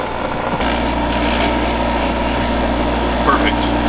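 A bench grinder runs in a garage workshop where an MK2 Supra rally car is being rebuilt, giving a steady, continuous motor hum and whine for the whole stretch, with faint background voices.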